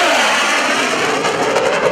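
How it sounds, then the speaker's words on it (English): An F/A-18C Hornet jet tears past in a high-speed airshow pass, a loud, continuous broadband roar that stays intense and steady throughout, with no voices over it. "The Hornet, high speed pass."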